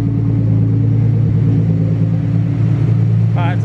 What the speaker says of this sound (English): Give it a rev, Kwana.